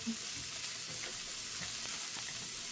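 Dried red chilies, garlic and curry leaves sizzle steadily in hot oil in a pan, a continuous close frying hiss with faint stirring ticks, no voices.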